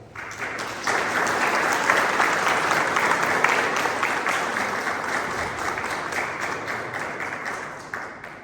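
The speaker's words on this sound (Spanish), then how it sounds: "pido un fuerte aplauso" A crowd at a book launch breaks into strong, sustained applause, dense clapping from many hands that swells quickly and holds steadily before tapering slightly at the end.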